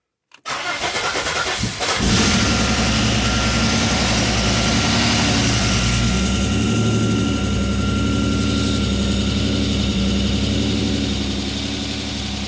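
A turbo 3800 engine in a Buick Regal GSX cranks briefly, catches and starts, then settles into a loud, steady idle with a continuous rough rumble and clatter, close by.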